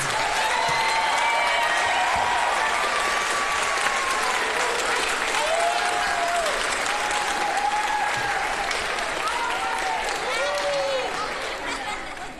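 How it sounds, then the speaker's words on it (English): Sustained applause from a large audience at an elementary school fourth grade promotion ceremony, with cheering voices and some chatter mixed in, fading slightly at the end. "you may stand up so we can give you a big round of applause."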